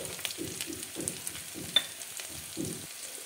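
Sliced onion, ginger-garlic paste, turmeric and a bay leaf frying in oil, a soft close sizzle broken by rhythmic stirring scrapes about twice a second.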